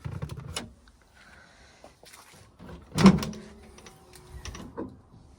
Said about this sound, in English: I'll pop the bonnet and we'll have a good look under there.